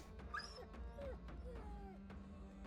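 Dogs yelp and whimper in a turn-based fantasy battle in the video game Battle Brothers, a few short cries over a steady low game soundscape.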